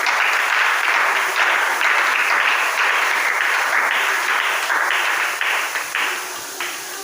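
A church congregation applauds for Jesus, a steady wash of many hands clapping together that carries on for several seconds, loud and close, with no talk over it.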